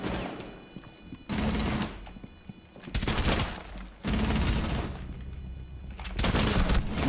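Gunfire from the Rainbow Six Siege video game: loud bursts of rapid automatic shots in several clustered volleys, separated by brief quieter gaps, with no talk over them.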